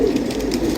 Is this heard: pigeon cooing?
yes